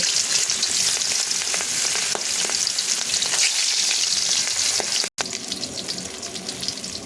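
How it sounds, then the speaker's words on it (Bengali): Fish fry in hot oil for a Bengali curry with taro, a loud, dense, continuous close-up sizzle with crackling spatter that briefly drops out near the end before resuming. "এবার এখানে আমি মাছগুলো দিয়ে মাছগুলো সুন্দর করে ভেজে নেব"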